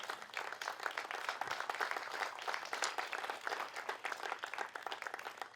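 An audience claps in a dense, sustained burst of applause that stays steady throughout, greeting the models and collections at an evening open-air fashion show in Castiadas.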